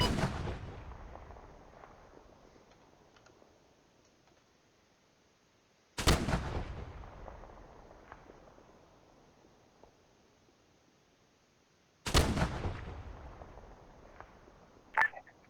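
Three artillery rounds boom one after another about six seconds apart, each a loud, sharp blast decaying into a long rumbling tail, in a military combat simulation setting.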